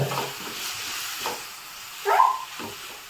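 Chopped tomatoes tossed and stirred in a hot pan for schezwan fried rice, a steady background sizzle broken by scraping stirs and one louder clatter of the spatula near the end.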